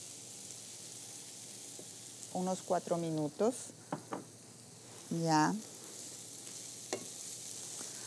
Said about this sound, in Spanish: vamos a sofreír por unos 5 minutos